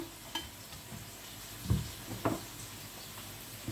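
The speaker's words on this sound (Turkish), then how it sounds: "Soğanımı da doğradım, biberimi doğradım, ocağa aldım." Chopped onions and peppers cook on a stovetop with a soft, steady sizzle, broken by a few louder stirs or pan knocks, close and alone without talk.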